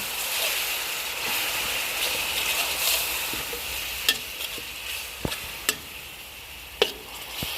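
Pork stir-fries in a pan with homemade shrimp paste sauce, fish sauce and bird's eye chilies, giving a loud steady sizzle broken by several sharp scrapes and clacks of the utensil toward the end.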